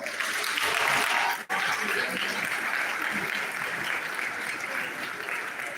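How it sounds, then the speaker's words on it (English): Continuous audience applause at a technical school graduation ceremony, fairly distant and even, with a brief dropout near the start before the clapping carries on steadily. "I want everyone to give the task of 2025 a round of applause."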